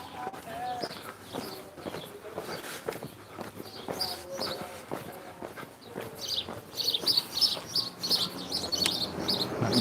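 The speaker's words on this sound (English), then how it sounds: "I can hear more of the house sparrows there, chirping away." House sparrows chirping on a sunny walk through Alnmouth, Northumberland, scattered bright repeated chirps at moderate distance over footsteps and outdoor ambience, growing busier toward the end.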